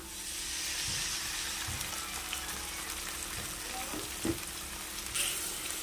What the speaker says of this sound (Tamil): வெங்காயம் நல்லா வதங்கிடுச்சு இப்போ இது கூடவே நம்ம அரைச்சி எடுத்துக்கிட்டேன் கொத்தமல்லி பேஸ்ட் ஆட் பண்ணிக்கலாம்